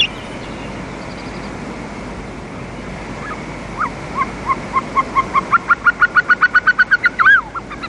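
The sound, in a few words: Caucasian snowcock calls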